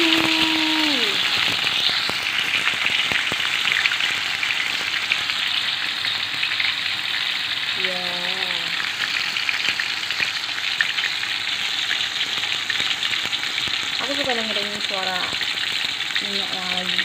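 Food fries in hot oil with a dense, loud, steady sizzle that never lets up, broken now and then by brief high chirping tones.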